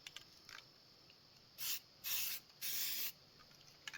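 High build filler primer sprayed from an aerosol can onto rough spots on an aluminum wheel, three close hissing bursts, the last two longer, with quiet pauses between them.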